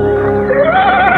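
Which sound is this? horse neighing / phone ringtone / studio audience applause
horse neighing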